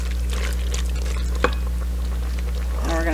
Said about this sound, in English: when I pour the tomato sauce in